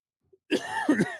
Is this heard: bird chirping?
no